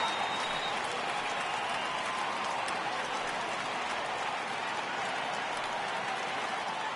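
Baseball stadium crowd from The Show video game, a steady dense roar of cheering and applause that holds loud and even throughout, building for a full-count pitch.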